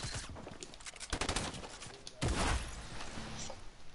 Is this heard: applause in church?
no